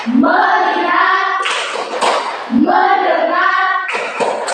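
A group in a classroom presentation claps out a short concentration rhythm pattern, mixed with chanting voices; two bursts of clapping, each joined by the voices.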